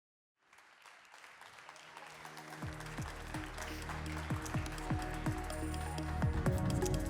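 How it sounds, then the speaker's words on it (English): Audience applause welcoming panelists onto the stage at a business conference panel, building from silence into sustained clapping with some low thumps and tonal stage music underneath. "let's give a big round of applause and a warm welcome to our panelists as they come up on stage"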